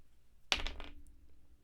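A single clatter of dice tumbling onto a hard tabletop during a tabletop game of The Undercity, a quick burst of rattling that settles within half a second into quiet.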